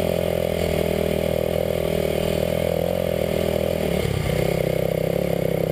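A Kawasaki KLX250sf supermoto on street tires climbs an offroad hill during an ATV poker run, its engine droning loud and steady, close to the rider, with a brief dip in pitch near the end.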